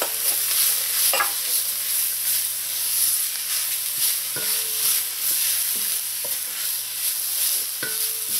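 Stirring spinach, carrot, pumpkin, parsley and scallions together in a cooking pot for Trini bhagi rice: spoon scrapes and knocks recur every second or so over a constant frying hiss.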